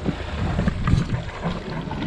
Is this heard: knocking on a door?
no